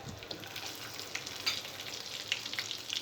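Chopped onions frying in hot oil with cumin, mustard seeds and dried red chillies, a steady close sizzle with faint popping and small crackles, no talk.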